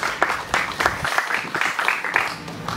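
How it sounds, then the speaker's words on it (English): Interns and guests at an annual research park awards ceremony clap in a lively round of applause, close and fairly loud, with individual claps standing out. "Give yourselves a round of applause."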